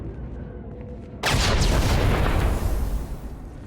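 Blasts of gunfire from the video game Star Wars: The Old Republic erupt abruptly after a quiet moment, sustained and loud with a dense rumbling burst that fades slightly toward the end.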